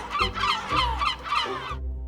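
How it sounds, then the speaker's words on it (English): Gulls calling loudly around residential buildings in Aberdeen in the early morning, a run of harsh, repeated raucous cries in quick succession, close and dense, ending abruptly. "At around 3 AM every morning, I hear the gulls start going crazy around the buildings where I'm currently living."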